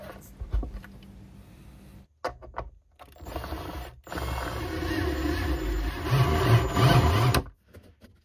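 Bolts being tightened to fix an IKEA IVAR desktop to its height-adjusting mechanism, heard as bursts of ratcheting mechanical clicks that grow louder and steadier toward the end, alone without talk.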